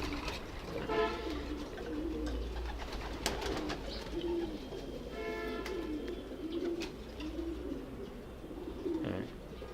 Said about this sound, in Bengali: আরেকটা কবুতর দেখাই,